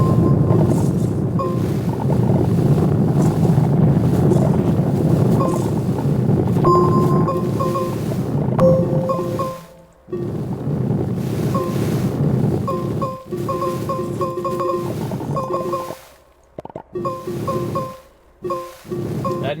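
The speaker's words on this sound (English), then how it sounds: "That noise you're hearing, that dunk dunk dunk dunk noise, that's it refilling my my power." In the Astroneer video game, a power refill gives off a run of short, evenly spaced dunk tones that repeat over a steady rumbling, windy game ambience.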